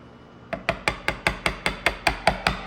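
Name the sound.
blue spruce mallet finely tapping a chisel on a dovetail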